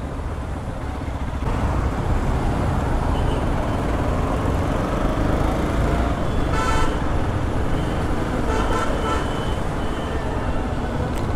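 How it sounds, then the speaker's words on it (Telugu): Weekend traffic streams along DLF Road in Hyderabad, a steady roar of cars and motorbikes passing close by, with a couple of brief horn toots breaking through the constant engine rumble. "చూశారు కదా ఎన్ని కార్లు వచ్చాయో అసలు. కార్లు, బైకులు"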